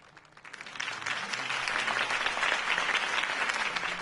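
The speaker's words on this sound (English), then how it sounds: "could have heard that applause" Crowd applause in a Batman video game after a Harvey Dent campaign speech, a swelling wash of many hands clapping that rises within the first second and holds loud and steady.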